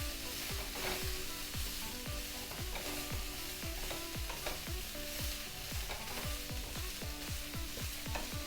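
Cabbage and cauliflower seasoned with black pepper sizzle steadily in a hot pan while a utensil stirs them, making repeated scraping strokes over the continuous frying hiss.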